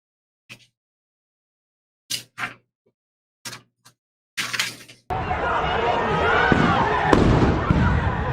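After a few short bursts of speech, a flash grenade goes off in recorded street footage, a sudden loud bang that opens into sustained, harsh, chaotic noise for several seconds.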